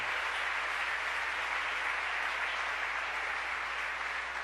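A church congregation applauds at a Sunday service, a broad, even spread of clapping that carries on steadily for several seconds at a moderate level with no voices over it.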